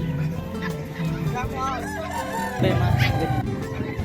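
Chickens clucking with a rooster crowing among them, in a busy outdoor pet market in Bocaue with dogs and ducks, people talking nearby.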